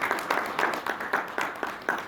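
An audience at a book presentation applauds the research team with a steady patter of claps from a crowd, moderately close and continuous throughout.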